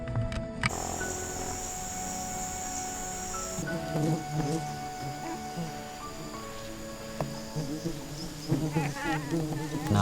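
Small kelulut stingless bees buzz close by in a dense, continuous drone, with tones that shift and flutter as individual bees pass.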